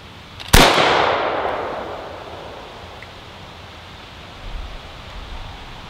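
A single loud AKM rifle shot cracks out at a farm, a sharp blast followed by a long rolling echo that fades over several seconds in open air.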